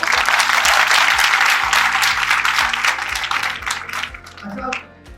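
Audience applause at a digital media marketing event in Pakistan, a dense loud wash of clapping that thins out toward the end, with a voice speaking over it.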